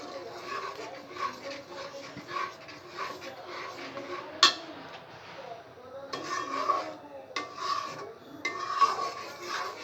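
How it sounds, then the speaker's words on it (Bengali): A spoon stirs yogurt into chicken roast in a pan, making repeated scraping and rasping strokes against the metal with occasional sharp clinks, steady and close throughout. "এখন আমি ভালো করে নেড়ে নিব।"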